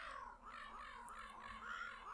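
A bird cawing in the Banjo-Tooie video game: repeated harsh, crow-like caws in quick succession, faint and somewhat distant-sounding, with no talk over them.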